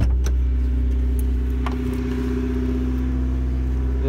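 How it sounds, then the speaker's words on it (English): A Honda Civic EJ9 engine idles steadily up close, a smooth even hum with a low exhaust drone and no audible revving, running alone without voices. "You see the revs pretty smooth, not bouncing up and down."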